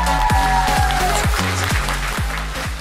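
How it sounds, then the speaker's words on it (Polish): Audience applause at a car show event in Lublin, sustained clapping heard beneath loud thumping music with a heavy, repeating beat. "Drodzy Państwo, wielkie, wielkie brawa!"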